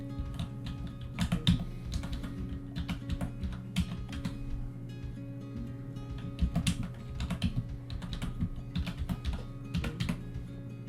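Password keys tapped out on a standard QWERTY computer keyboard, steady clusters of light clicks and occasional heavier keystrokes over a faint constant background hum, with no talking.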